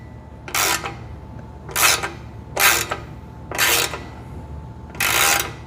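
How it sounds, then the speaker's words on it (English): Five separate bursts of a ratcheting wrench tightening O-ring-sealed hose clamps under the hood of a 1968 Dodge Charger, close and evenly spaced with short pauses between them, with no talking. "So let's just final clamp these."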